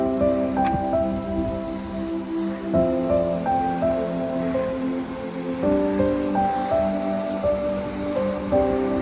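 Water of the wide French Broad River rushes below an old bridge in a steady, broad wash. A constant tonal hum with shifting pitches runs over it throughout.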